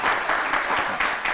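A studio audience claps warmly for guests on a talk show in a brief, dense burst of applause that stays loud and even from start to finish.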